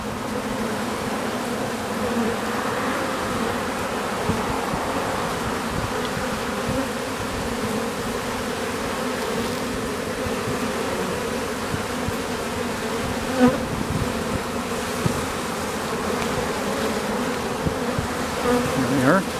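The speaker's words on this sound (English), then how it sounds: "you can see these bees crawling in that hole." Dense, steady buzzing of many honeybees at a hive entrance close by, a continuous droning hum with occasional louder passes near the hive.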